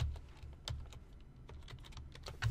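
Quiet, irregular clicks of a computer keyboard as code is typed, soft close keystrokes in an uneven rhythm with brief pauses and no voices.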